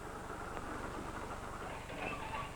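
A train running along rails, with a steady rumble and a fast, regular clickety-clack of wheels over the track, moderately close and continuous, with faint squeals near the end.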